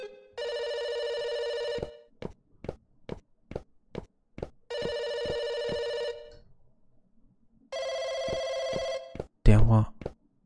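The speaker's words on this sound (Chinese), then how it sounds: "电话响了，听声音在左边。" A telephone ringing indoors in repeated bursts of electronic trilling separated by short pulsed ticks, ending with a loud clattering pickup sound.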